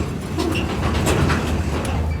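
A train rumbles past close by in a steady, loud roar with faint rhythmic clatter of wheels on rails, heard near an ash-loading site at Sevaliya.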